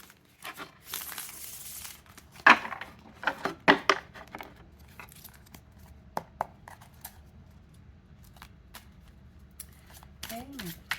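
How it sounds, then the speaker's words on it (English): Tarot cards shuffled and pulled, with crinkly papery rustles and sharp snapping flicks in irregular bursts, close and moderately loud, mixed with brief touches of voice. "let's just go ahead and pull some cards"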